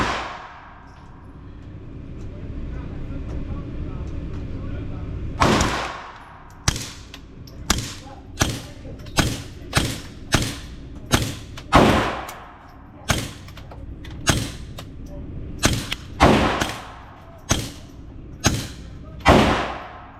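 Shots from an FN 502 Tactical .22LR pistol fired outdoors, about a dozen sharp cracks spaced roughly a second apart after a stretch of low rumbling background, each loud and clipped with a short decay.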